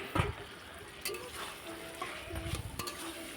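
Spice masala and young jackfruit fry in oil in a pan, a quiet sizzle broken by a few louder scraping stirs.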